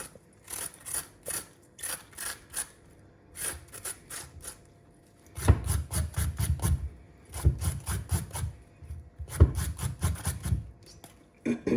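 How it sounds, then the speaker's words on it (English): A handheld peeler scraping the spiky skin off a bitter gourd (karela) in a kitchen, making close, rhythmic rasping strokes in clusters with brief pauses, louder in the later half. "peel the bitter gourd. You don't have to do it too thickly, just thinly take all the spikes off."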